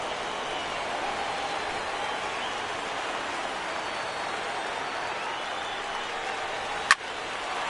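In MLB The Show 17, a baseball stadium crowd keeps up a steady, distant roar and murmur, broken once by a sharp click near the end.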